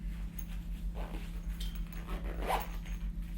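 Zipper closing on the outer zips of a RiutBag Crush foldable daypack as it is squeezed into its pouch form, two short rasping pulls over a steady low hum.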